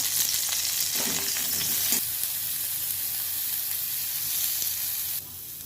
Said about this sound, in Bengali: এবার এটাকে একটু অল্প ভেজে নেব